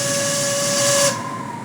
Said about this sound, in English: You didn't just blow the whistle, did you?